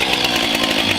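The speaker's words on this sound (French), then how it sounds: "Ça, c'est pas une tronçonneuse de guignol." A chainsaw runs at high revs nearby, a loud, steady buzzing roar that fills the whole moment with no pauses and no voices over it.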